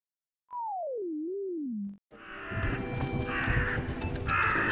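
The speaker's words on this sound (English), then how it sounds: "Dreaded crows." A single drawn-out warbling tone sweeps down and up, then cuts to a busy, noisy crow cawing sound effect with layered clatter, from the Promise Mascot Agency video game.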